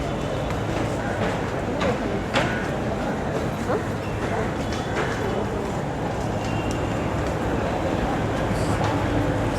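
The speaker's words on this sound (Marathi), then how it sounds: "समोर लागलेली मेट्रो" A Mumbai metro train stands at a crowded Ghatkopar platform, giving a steady, close rumble of rail machinery that fills the whole stretch, with a faint murmur of people nearby.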